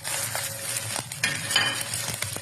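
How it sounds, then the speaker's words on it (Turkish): Minced meat browns in a hot pan with a steady crackling sizzle, punctuated by a few spoon clinks and stirring scrapes, close and moderately quiet, no voices. "Bakın kıymamız cızır cızır kavruldu"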